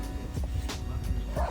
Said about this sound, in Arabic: معلش بقى صوت الكلاب